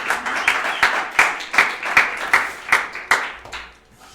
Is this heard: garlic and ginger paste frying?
no